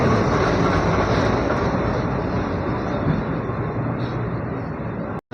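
A passenger train waits at a busy Indian railway station platform, its steady, loud rumble and broadband clatter continuing without break before a brief cut near the end; no one speaks.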